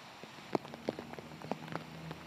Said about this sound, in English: While the rain may be a drag for some, it's a helping hand for farmers.